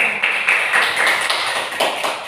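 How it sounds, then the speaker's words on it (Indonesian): Classroom applause for a student group after a presentation, a dense burst of many hands clapping for about two seconds, close and loud. "Kasih aplaus dulu untuk kelompok 2"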